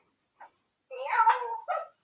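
A cat meows, giving a short faint chirp followed by a longer, louder, drawn-out meow and a brief final call, close by in a quiet room.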